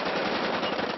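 Celebratory gunfire by gunmen, a dense continuous rattle of automatic bursts heard at a distance and somewhat muffled, steady with no pauses over a short stretch.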